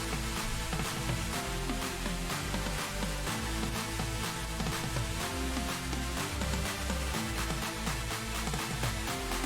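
Build-up section of the beat plays continuously and loud, with a steady pulsing low end, dense percussion and layered tones filling the whole stretch without any talking.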